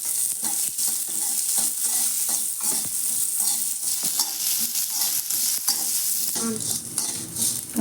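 Pirandai (adamant creeper) frying in sesame oil while being stirred, a steady loud sizzle broken by repeated scraping strokes of a spoon against the pan, continuous throughout with no voices.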